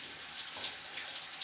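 Water running from an electrically heated hostel shower tap, a steady hiss of spray falling close by with one small splash partway through, with no voices.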